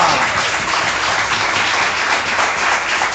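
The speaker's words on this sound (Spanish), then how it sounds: "Un aplauso a la gloria de Jehová" Church congregation applauding to the glory of God, a steady wash of dense clapping that holds evenly loud for the whole stretch, with no speech on top.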